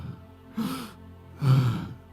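Two breathy vocal exhalations in a quiet room, a voice imitating the breath-like pronunciation of Yahweh, each airy burst rising and fading with a soft voiced undertone.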